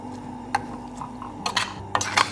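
A spoon stirring a cinnamon and apple breakfast mixture in a bowl, a few soft clinks and scrapes spaced irregularly over a low steady hum, quiet and close.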